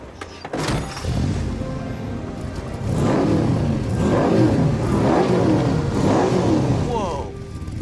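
A Saleen S7 sports car engine revs and accelerates in repeated rising surges, loud and close, with a steady roar beneath and voices talking over part of it.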